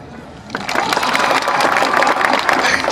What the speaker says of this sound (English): When I get this signal, please give your applause, and then stop when I get do this.